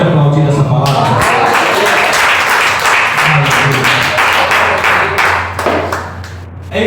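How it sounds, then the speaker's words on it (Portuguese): A church congregation bursts into loud, close applause with many hands clapping at once, fading slightly near the end. "Você pode aplaudir essa palavra?"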